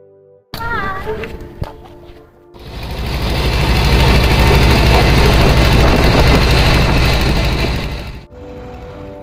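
A trawler boat's engine runs loud and steady for about six seconds near Nijhum Dwip island, a broad continuous drone after a brief quieter stretch with bird-like calls at the start.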